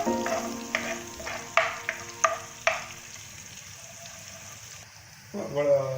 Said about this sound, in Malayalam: ഇപ്പോൾ നമ്മൾ അതിലേക്ക് ജിഞ്ചറും ഗാർലിക്കും, കുറച്ച് ജിഞ്ചറും കുറച്ച് ഗാർലിക്കും എടുത്ത് അതൊന്ന് അത് മൂത്ത് വരുമ്പോൾ